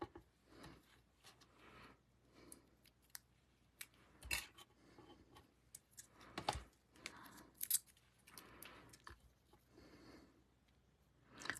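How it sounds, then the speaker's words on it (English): Small craft snips slicing a mini dimensional adhesive foam square in half while assembling a lavender card, giving a few crisp, close metallic snips with handling rustles between them. "I'm just going to use my snips and cut one of the mini dimensionals in half."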